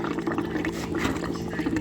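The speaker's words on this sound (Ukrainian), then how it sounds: "Перестане булькати тоді система буде розвоздушена" Air and water gurgle through an underfloor heating system's pipes as it is bled under feed pressure, a steady close bubbling and trickling with a constant low hum, continuing without pause.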